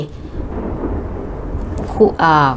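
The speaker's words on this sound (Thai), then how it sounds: "ฟ้าร้อง" Low, rolling thunder rumbles steadily for about two seconds, then a voice begins speaking over it.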